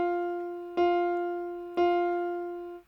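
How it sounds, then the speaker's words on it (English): Several quarter notes on guitar are plucked at the same pitch with a steady, even beat. Each note rings on cleanly and fades slowly until the next one sounds, heard alone and fairly soft. "So this is 4 quarter notes, and when we play them, all 4 notes sound."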